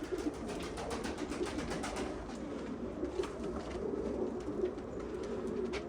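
Pigeons coo steadily in a noisy enclosure, their soft throaty calls overlapping under constant background rustle and chatter of many birds.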